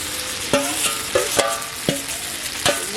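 Fried cauliflower sizzles steadily in hot oil while a utensil scrapes and clinks against the pan a handful of times.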